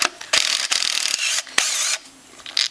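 A ratchet works a 5 mm Allen head bolt on a Honda Fourtrax 300 ATV, giving several short bursts of close, rasping clicks separated by brief pauses.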